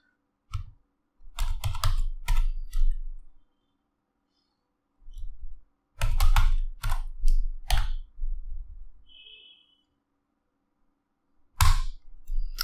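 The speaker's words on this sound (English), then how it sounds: "Let's say I'm gonna type some password here." A password is typed on a computer keyboard in short bursts of close, crisp key clicks separated by pauses of silence.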